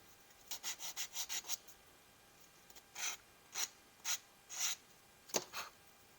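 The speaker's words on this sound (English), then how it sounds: "This wood is very soft, so it's easy to sand, so it would be easy to overdo." Soft wood being hand-sanded to a slight bevel: a quick run of short rasping strokes, then several slower, separate strokes, close and clear with no talk.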